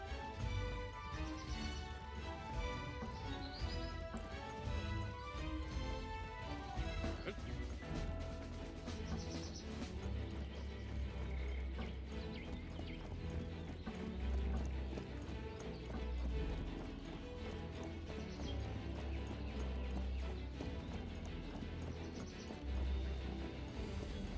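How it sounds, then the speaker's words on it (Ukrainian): Horses' hooves clip-clop steadily in a battle scene from the Cossacks 3 video game, a dense, continuous patter of many hooves at moderate distance, mixed with faint mechanical clatter and occasional neighs. "коні йдуть"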